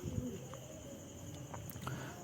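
Large, aggressive pigeons at a pigeon farm in Maslandapur give soft, low cooing calls, with a couple of short coos standing out against faint steady background noise.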